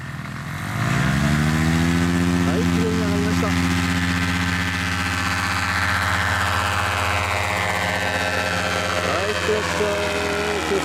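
Small model-aircraft engine starts up and runs steadily at idle before a flight towing a streamer, a continuous buzzing drone with harmonic layers, close and fairly loud, with brief faint voices in the background.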